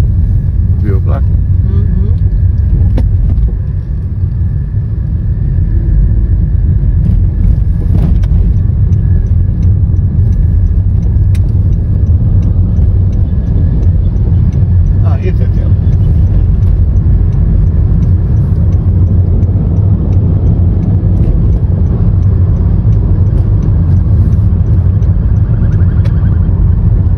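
Dense car traffic streams along a busy city road in Rio de Janeiro's Barra da Tijuca, a steady loud rumble of engines and tires that holds throughout, with occasional passing-vehicle swells and voices talking over it.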